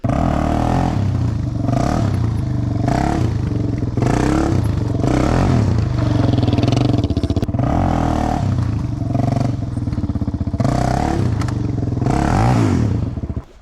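A quad bike drives over rough, uneven ground, its engine running loud and close with repeated revving surges and rattling clatter from the bouncing chassis throughout.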